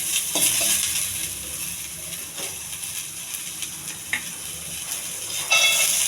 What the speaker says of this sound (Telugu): కొంచెం జీలకర్ర, కొన్ని ఉల్లిపాయలు, ఇది కొద్ది దోరగా వేగాలండి.